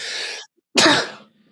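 A single close, sharp sneeze bursts out after a brief quieter breath during a sports talk show.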